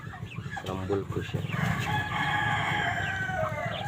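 Broiler chickens cluck and crow inside a coop, with a brief voice at the start and continuous overlapping bird calls throughout.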